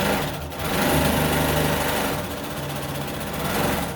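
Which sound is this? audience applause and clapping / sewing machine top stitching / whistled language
sewing machine top stitching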